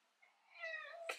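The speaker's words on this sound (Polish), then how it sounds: "Kot mi tu jęczy" A house cat gives one drawn-out whining meow that swells in the middle and ends in a short breathy burst, close and alone in a quiet kitchen.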